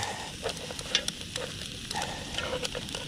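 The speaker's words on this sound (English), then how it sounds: "get the legs and everything into the uh, into the butter where it's going to sizzle away" Steady sizzling and crackling of mud crab legs frying in butter, with a few louder pops and light scraping of a pan, no talking.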